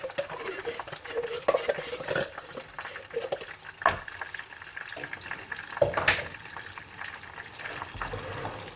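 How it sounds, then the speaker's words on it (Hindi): Blended onion goes into a hot pan and fries, giving a soft, steady sizzle with occasional sharper spatters and stirring scrapes, fairly quiet and close by. "उसके बाद जो हमने प्याज ब्लेंड करके रखी है उसको मैं डालूंगी इसके अंदर।"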